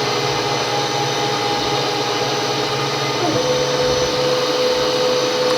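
A milling cutter machines a cylinder head for a five-cylinder radial engine held in a vise, giving a steady, loud mechanical whir with a faint tonal hum that shifts partway through.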